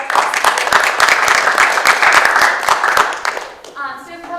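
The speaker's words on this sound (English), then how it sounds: "Round of applause." Audience at a talk on pornography and trafficking gives a loud, dense round of applause that holds steady for about three seconds, then thins out and fades as a voice begins speaking.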